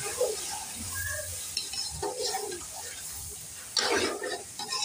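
Chili, turmeric and coriander powders stirred into a cooking pot for a mixed vegetable curry, with scraping, light sizzling and clinks of the spoon against the pot, a louder burst of stirring near the end.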